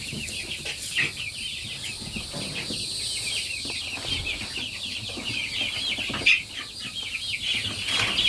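Several chickens cluck and chatter continuously close by on a homestead, with occasional louder squawks and a brief flutter, no people talking.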